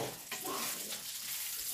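Bacon frying in a pan in a home kitchen, a steady broadband sizzle with soft crackles and a brief stir, heard alone at moderate level.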